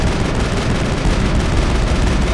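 Cannon fire in the sci-fi shooter Mass Effect, heard as a loud, dense, continuous roar of blasts and combat noise that fills the whole stretch with no talking.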